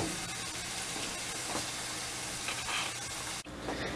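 Ground beef and potatoes seasoned with adobo frying in olive oil in a pan for jalapeño sliders, giving a loud, continuous close sizzle that cuts off briefly near the end.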